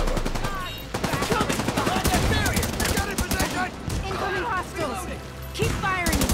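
Rapid automatic gunfire and bursts of shots in The Division 2, a third-person shooter, loud and continuous with dense overlapping reports, mixed with game character voices calling out during a combat firefight.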